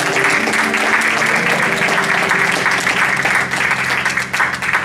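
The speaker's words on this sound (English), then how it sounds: "Can we give God a hand clap of praise?" A church congregation claps hands in praise during a Sunday morning service, a loud, continuous wash of applause that stays strong throughout, with some low voices and a faint tonal hum underneath.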